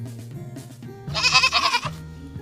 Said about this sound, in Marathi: गोट